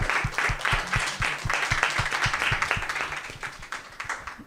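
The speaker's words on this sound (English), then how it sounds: "let's give them a round of applause" An audience at a poetry event gives a round of applause, steady sustained clapping from many hands throughout, fairly close and even in level.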